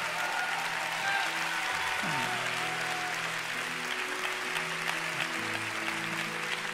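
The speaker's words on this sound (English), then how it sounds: "Let's give them a big clap as they come." A church congregation claps in sustained, even applause from start to finish, with a sustained tonal hum running underneath and no clear speech on top.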